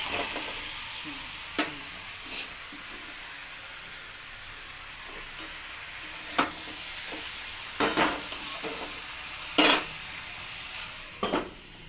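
Spinach is stirred in a wok over a low background sizzle, with scattered scraping clatters of the utensil against the metal, several clustered near the end.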